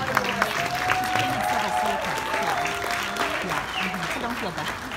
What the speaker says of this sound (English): So let's give another round of applause for the beginning category.